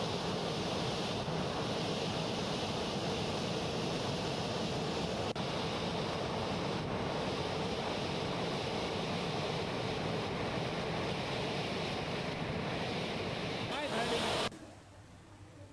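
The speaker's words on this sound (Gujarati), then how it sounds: "ડેમ ઓવરફ્લો થયો હતો, ત્યારથી જ અહીં પાણી સતત વહી રહ્યું છે" Water pours continuously over the overflowing Dhruneshwar dam after heavy rain, a loud, steady rushing roar that stops abruptly near the end.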